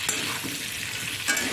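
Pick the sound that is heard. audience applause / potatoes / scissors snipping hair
potatoes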